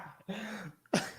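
A single sharp cough bursts out near the end, loud and close, after a short stretch of a low murmuring voice.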